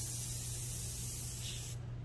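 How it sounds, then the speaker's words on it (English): An airbrush releases a fine mist in a steady, soft, even hiss, close and continuous, with no voices, before stopping abruptly. "you can really like get these imperceptibly fine mists of spray"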